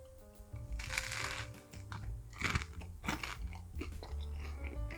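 Close, repeated crisp crunches of teeth biting and chewing through a crunchy Roman-style pan pizza in a tray-baked crust, irregular bites followed by softer chewing, with no talking.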